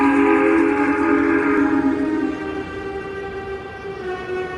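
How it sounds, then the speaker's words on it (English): A steam engine's whistle sounds from an approaching train in the dark, a loud sustained multi-tone blast that holds steady, then drops slightly in strength and carries on over a rumbling low background. "he and Percy heard a whistle from another engine, which was coming from the darkness ahead of them"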